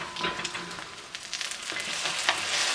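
Egg foo young frying in a pan, a bright crackling sizzle with soft scraping as two spatulas work under and flip it, close and continuous without talk.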